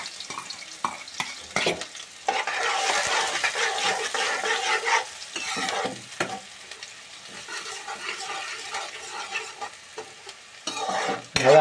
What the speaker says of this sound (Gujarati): હવે આપણે કાંદા એટલે ડુંગળી એડ કરી દઈશું અંદર.